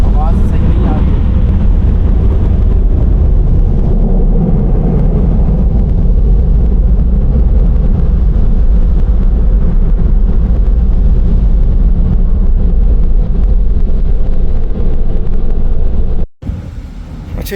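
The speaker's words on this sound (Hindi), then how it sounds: "अब जो है ना वो हवा से उसको साफ कर रहा है, वो आवाज़ सही नहीं आ रही है।" A powerful air blower in an automatic car wash dries a car, a loud, steady roaring rush of air that fills the space for most of the time before cutting off abruptly near the end.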